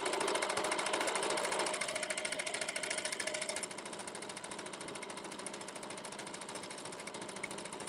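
A sewing machine stitches continuously, a fast even mechanical chatter running the whole time at moderate level, with no talking over it.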